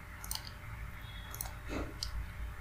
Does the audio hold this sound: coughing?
no